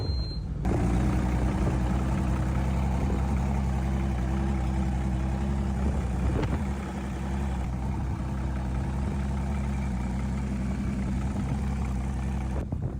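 An old outboard engine on a Warrior 175 boat runs at a steady idle, with a continuous low mechanical drone and hum that stays close and loud throughout, and a brief knock partway through.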